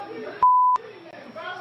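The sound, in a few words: censor beep over profanity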